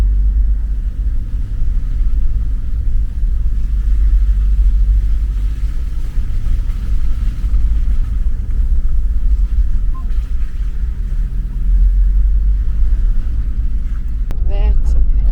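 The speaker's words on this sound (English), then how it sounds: "Some early morning traffic to Kosi Bay." Early morning road traffic on the way to Kosi Bay: a steady low engine rumble of passing vehicles, continuous and fairly loud throughout, with a brief higher rattle near the end.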